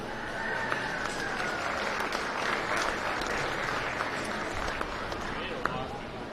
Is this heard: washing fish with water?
no